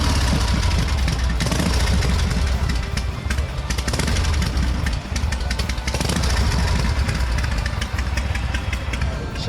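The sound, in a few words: Harley-Davidson motorcycle engine warming up, idling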